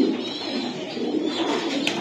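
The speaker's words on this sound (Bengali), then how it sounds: "তাহলে এই বাচ্চা সহকারে যে কবুতর গুলা আছে এগুলো আমরা দেখাবো।" Racer pigeons at a breeding farm coo while feeding their chicks, a low, throaty, rolling coo close by, steady and repeated over a brief stretch.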